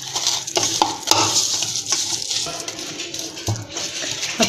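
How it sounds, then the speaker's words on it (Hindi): Spices are stirred together in a bowl for a fish marinade, making close scraping and clinking sounds with a wet, gritty texture and no talking. "तमाम मसालों को अच्छी तरह मिक्स करूँगी।"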